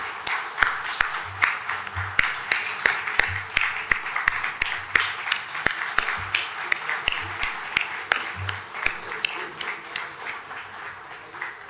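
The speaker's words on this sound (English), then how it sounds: "give huge round of applause for our investors and a standing ovation" Applause from a conference audience honouring investors at a startup festival, a steady spread of many hands clapping at moderate distance with scattered sharper claps, continuing evenly throughout.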